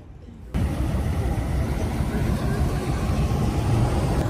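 Two old tier-zero 180 hp 2.4-liter diesel engines on a 26-foot Anderson boat run at a steady, rough, smoky idle after starting, a continuous low rumble close by with no pauses.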